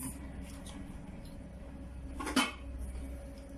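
A pot lid and pan clank once, close and clear, as a flatbread disc is set into a hot baking pot and covered, with a low steady hum beneath.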